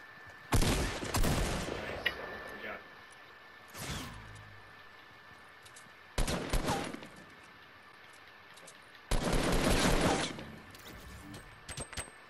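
Bursts of gunfire from a Fortnite match, several loud volleys of rapid shots separated by short pauses, with a faint steady background tone throughout.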